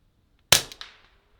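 A single suppressed .22 LR pistol shot with a subsonic round gives one sharp, muffled crack with a short ringing echo trailing off, standing alone in otherwise quiet surroundings.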